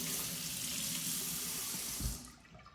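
Tap water running over a filleted Indian mackerel in a sink, a steady close rushing spray that cuts off near the end, leaving a quiet drip.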